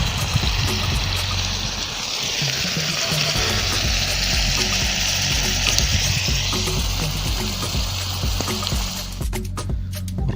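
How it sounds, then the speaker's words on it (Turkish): Liver sizzles and crackles steadily in a hot frying pan in a Turkish home kitchen, a close, continuous frying hiss with occasional stirring clatter and no talk. "ciğerimiz çok güzel pişiyor"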